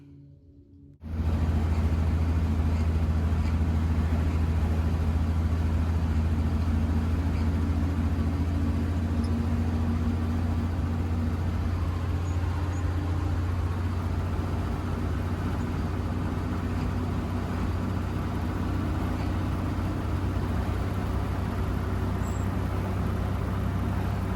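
A 1949 International KB-2 truck runs and drives with a steady low engine drone that starts after a second and holds loud and close, with a faint higher whine riding over the rumble.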